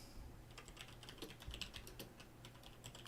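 Someone taps quickly on a computer keyboard, a steady run of soft, close keystrokes over a low background hum.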